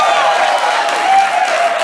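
Applause and cheering rise from a live comedy audience in Portland, Oregon, a dense, steady wash of clapping heard close and loud for a brief moment.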